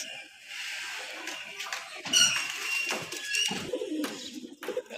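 Old racing pigeons coo softly in a loft, low throaty calls mixed with light rustling and faint background voices.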